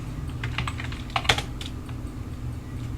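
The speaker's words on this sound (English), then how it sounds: "I'll just type in a quick little command for games and stuff" A short run of keystrokes on a computer keyboard at a PowerMac G5 desk, close and clicky, with a few louder taps midway over a low background hum.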